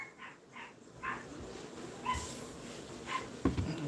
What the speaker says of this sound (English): Probably ain't even barking at me.